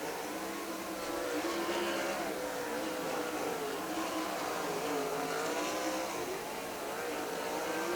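Sprint race cars on the Millstream Speedway oval during a Great Lakes Super Sprints heat race, engines droning steadily as the pack runs down the backstretch into turns three and four, a dense continuous roar with slight rises and falls.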